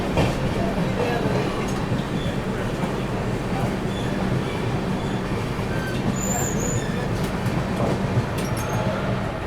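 The Grand Trunk Express rumbles along the main line, a loud, continuous rolling roar of wheels and carriages with rhythmic clatter and occasional high squeals, heard up close from on board.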